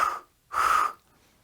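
A beatboxer imitates a hissing cat with two forceful breathy hisses pushed out from the belly, the second longer and louder, close to the mic, with a voiced tone running through each burst and silence between them.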